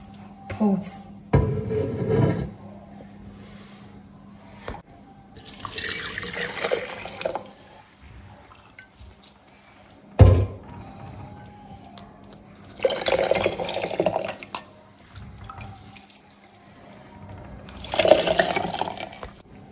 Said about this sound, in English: so I'll go ahead and strain it in my pot